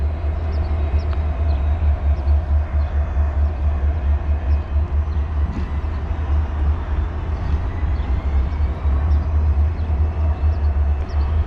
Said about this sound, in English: Just love the sound of diesels, you know, they just that sound of power that they make.